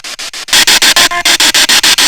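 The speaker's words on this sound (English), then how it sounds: "Was that a 9 we just heard on the spirit box?" A spirit box radio sweeps through static in a cemetery, with rapid, regular pulses of loud hiss chopping about five times per second and a brief tonal, voice-like blip near the middle.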